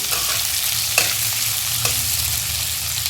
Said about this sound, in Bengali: পেঁয়াজ দিলাম, এবার এটাকে ভালো করে ভেজে নিতে হবে।